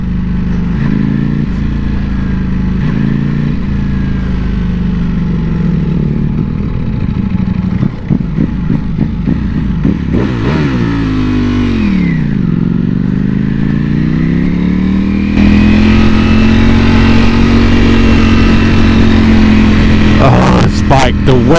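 Ducati Panigale V4S in race mode, its engine revving loud and close with rising and falling pitch sweeps, gear changes and a climbing, sustained wail toward the end, with some clatter along the way.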